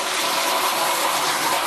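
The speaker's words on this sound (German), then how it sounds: "Jetzt wird die Brennblase ausgespült mit frischem Wasser" Fresh water gushes and splashes steadily inside a copper still pot being rinsed out after a pear mash distillation, a loud, close, continuous wash of rushing water with no pause.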